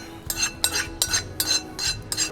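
Nuts mixed into a homemade olive oil ice cream mixture: a spoon clinks and scrapes against the bowl in about six quick, even strokes, close and clear, over a low steady hum, with no voices.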